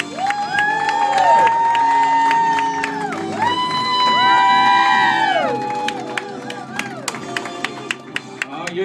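Wedding guests cheer and whoop for the couple's entrance, a steady crowd roar with shouts rising over music playing in the room throughout.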